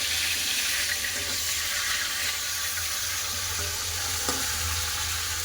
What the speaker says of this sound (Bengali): একটু ভালো করে উল্টে উল্টে ভাজা ভেজে নেবো মাছগুলো